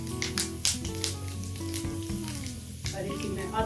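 Whole cumin, fenugreek and nigella seeds sizzle and crackle steadily in hot oil in a close pan, with sharp pops scattered over a constant frying hiss and a faint hum underneath, without speech.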